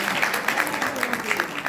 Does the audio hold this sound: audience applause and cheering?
yes